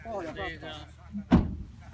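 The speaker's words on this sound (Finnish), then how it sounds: "Avataan toi ovi, niin avaa ovi." A car door opens with a single sharp thud and clatter near the end, after a stretch of talking, during a rally stage test run with a co-driver aboard.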